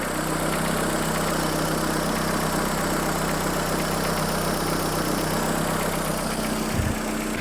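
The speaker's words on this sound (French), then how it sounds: "il y a un bruit normal hein, de moteur" A Renault Twingo D7F engine idles close by, a constant low rumble with a faint mechanical clatter throughout.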